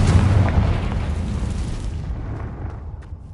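A Confringo blasting spell from the Hogwarts Legacy video game detonates in one loud, deep boom at the very start, then rumbles and fades into a long, thinning tail with no voices over it.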